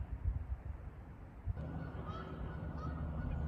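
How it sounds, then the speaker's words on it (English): Geese honking near a railway on a rural line, faint and somewhat distant over a steady low rumble that swells partway through. "the geese are telling me that the train is rumbling up Paris Hill right now."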